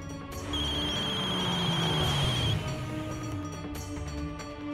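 A telephone rings while a call is placed to a driver, a steady electronic tone with a sustained high beep over a low background hum of music and room noise, moderately loud and without speech.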